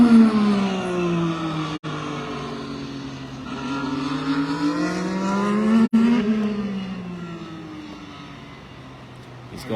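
An IndyCar race car engine screams at high revs during an engine test at Indianapolis Motor Speedway, its pitch rising and falling as the car passes, loud and continuous for about ten seconds with two brief abrupt cut-outs.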